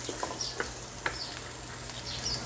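Olive oil sizzling in a frying pan, a soft, steady crackling hiss with scattered small pops, faint and alone without speech.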